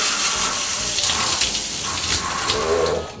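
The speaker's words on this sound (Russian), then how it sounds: "Включаем горячую воду." Hot water gushing from a shower in a shower cubicle, a loud, steady hissing spray that runs continuously and eases off slightly at the end.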